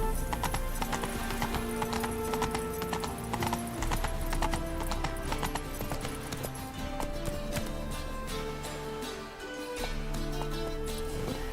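Horse Roach trotting in The Witcher video game: steady clip-clop hoofbeats with an occasional whinny, loud and continuous throughout, layered over game music.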